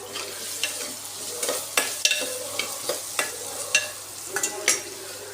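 Bottle gourd pieces stir-fried with turmeric in a pan, a soft sizzle underneath with repeated sharp spatula scrapes and knocks against the pan at irregular intervals, close and fairly quiet.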